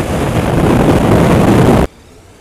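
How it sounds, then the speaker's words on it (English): A KTM 1050 Adventure motorcycle's engine while riding: a loud, dense roar mixed with rushing wind for about two seconds, then cutting off abruptly to near quiet. "It's a funny sound of the engine,"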